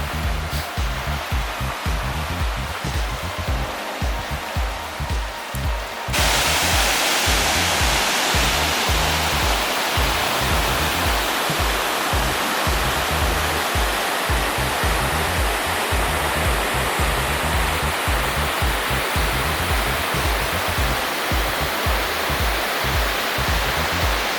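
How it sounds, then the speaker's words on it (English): Evolution Creek on the John Muir Trail flows loudly nearby, a dense continuous rush of water that swells louder after a few seconds and holds steady throughout. "Evolution Creek."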